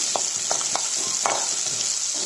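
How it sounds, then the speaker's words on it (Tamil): Small onions and curry leaves sauté in a pan for a chicken gravy, giving a steady close sizzle with a few soft scraping stirs and no voices. "சின்ன வெங்காயம் நல்லா வதங்கிறதுக்கு கொஞ்சம் டைம் கொடுங்க"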